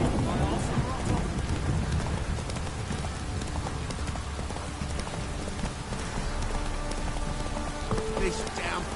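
Heavy downpour in a PS4 video game, rain pouring continuously over a horse's clip-clopping hooves, with faint low thunder and some background game sounds.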